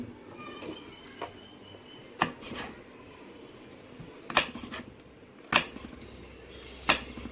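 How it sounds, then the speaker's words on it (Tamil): A knife chops onions on a board in a home kitchen, sharp separate knocks coming at irregular intervals, close and fairly quiet, with faint handling noise between the cuts. "இப்போ ஆனியன்ஸை நம்ம கட் பண்ணிடலாம்"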